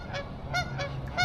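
Geese honking on a river, heard from a paddle board: four loud, nasal honks spaced about a third of a second apart, close by, with no talking.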